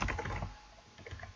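Quick typing on a computer keyboard, a close burst of rapid key clicks, a brief pause, then a few more taps, with no talking.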